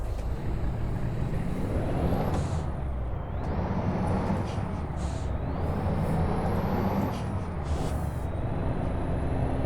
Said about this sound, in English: Love the sound of this truck though.